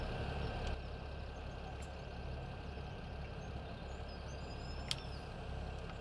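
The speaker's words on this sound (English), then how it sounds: "Which tractor is running?" Tractor engine idling steadily in Farming Simulator 17, a continuous low rumble that holds evenly throughout, with a brief sharp click near the end and no talking.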